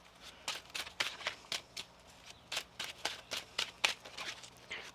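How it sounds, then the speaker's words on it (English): A deck of tarot cards being shuffled by hand on a table, a run of crisp, rapid riffling flutters repeating about a dozen times in an even rhythm, close but soft. "One more shuffle."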